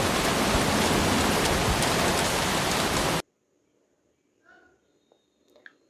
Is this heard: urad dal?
no